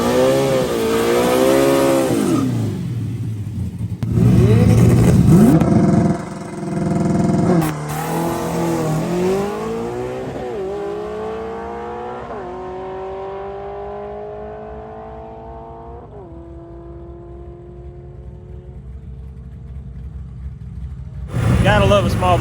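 A small block Ford Windsor drag car with a stick shift launches down the strip at a drag racing reunion event, its V8 revving hard then pulling through gears with rising, falling pitch as it fades away; crowd or talk nearby.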